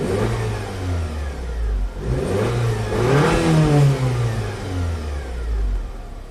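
A turbocharged Acura car engine revs hard under full throttle, its pitch rising and falling in steady sweeps with a loud, close, continuous drone and no talking.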